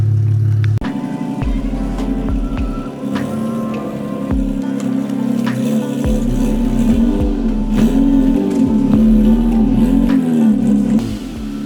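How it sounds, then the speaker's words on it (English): A 2007 BMW 328i E90 car is driven slowly into a garage, its engine idling and revving in a loud, steady mid-range drone with a few rises in pitch throughout. "I'm going to move the car inside the garage"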